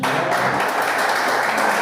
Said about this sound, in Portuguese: Uma salva de palmas para o nosso Senhor Jesus.